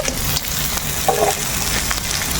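Fried crabs stirred into a pan of cooked-down spice paste over a village clay stove, giving a steady loud sizzle with scraping stir sounds and a brief clatter near the middle, no voices.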